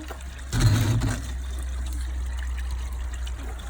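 Water flushing through a DIY upward flow pond gravel filter being cleaned, a sudden loud gush that settles into a steady, close rushing trickle over a low constant hum.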